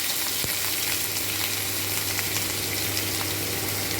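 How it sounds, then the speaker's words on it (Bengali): Chopped onions and slit green chillies sizzle steadily in hot oil in a wok, a loud, continuous frying hiss close by with no talk. "এবার আমি কড়াইয়ের গরম হয়ে গেছে তেল পেঁয়াজগুলো ছেড়ে দিলাম"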